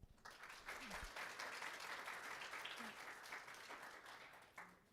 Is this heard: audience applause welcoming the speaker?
yes